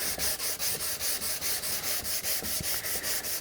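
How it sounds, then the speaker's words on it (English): Wood being hand sanded with 240 grit sandpaper, a close, steady run of rhythmic back-and-forth rasping strokes, about four per second, with no voices. "So hand sand,"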